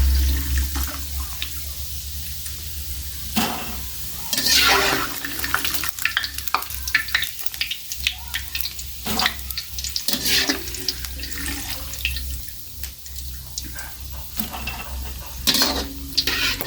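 Tapioca snacks frying in hot oil, a steady sizzle broken by frequent clinks and scrapes of stirring, close and continuous without talk.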